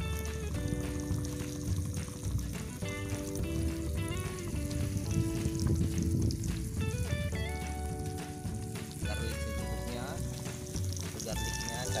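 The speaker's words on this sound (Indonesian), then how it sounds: "Proses penggorengan." Ingredients for grape sambal, including garlic and chili, frying in hot oil with a steady sizzle and occasional pouring sounds, mostly buried under music and people talking.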